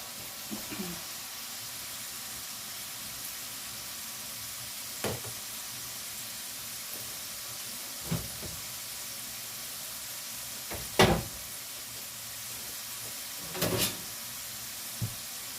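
Spicy potato chips frying in oil over a medium flame, a faint steady sizzle with a few brief louder clatters and stirring bursts scattered across the clip, without talk.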